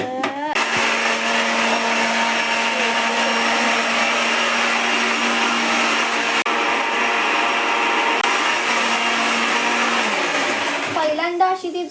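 A mixer grinder whirs loudly and steadily at close range for several seconds, then winds down near the end.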